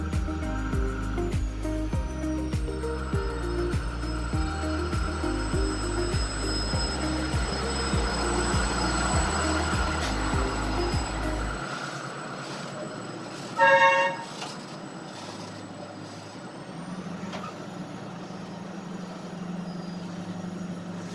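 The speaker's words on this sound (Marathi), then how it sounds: "कारण समोरून हॉर्नचा आवाज येत आहे" A train approaching Deoli railway station on the Wardha–Nanded line blows its horn in long, repeated sustained tones over heavy rumbling engine noise, then cuts off, leaving a quieter drone with a brief clatter.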